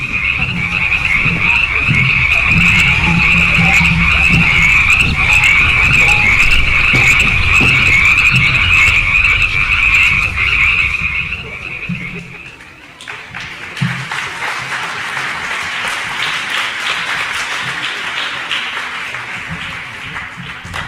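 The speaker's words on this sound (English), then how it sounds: "the frogs appeared over all the land" A dense chorus of frogs croaks loudly and continuously, then cuts off abruptly partway through, leaving a quieter, hissing backdrop with occasional soft knocks.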